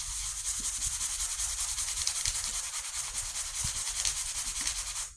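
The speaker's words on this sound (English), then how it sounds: "I get a soft or a fine sanding block." A fine sanding block rubs over a sheet of flattened aluminum can metal in quick, even back-and-forth strokes. The scratchy rasp is soft and steady for several seconds, with no voices.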